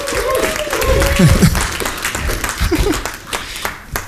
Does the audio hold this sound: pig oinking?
no